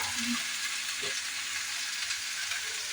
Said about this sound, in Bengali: এই পটল ভাজছি